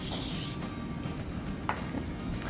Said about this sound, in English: Do you mind spraying this slow cooker